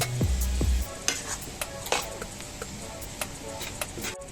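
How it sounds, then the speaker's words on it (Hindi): Potatoes being stirred into an onion, tomato and green chilli masala fried in oil, a soft sizzle beneath repeated spoon scrapes and taps against the pan, with a low knock at the start. "देखिए इस तरीके से हमें आलू को मिलाना है इसके अंदर"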